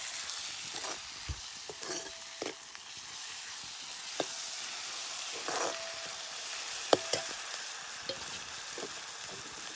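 Onion and a ground paste fry in a pan with a steady, soft sizzle and occasional scrapes and taps as the mixture is stirred, with no voices over it.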